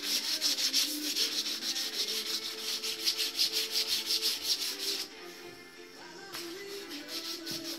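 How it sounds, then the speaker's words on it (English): Edges of a PVC fleshing beam are rubbed with 150 grit sandpaper, giving a close, rhythmic scraping of quick back-and-forth strokes that pauses briefly and then resumes. "This is just 150 grit sandpaper. I'm just touching up the edges here."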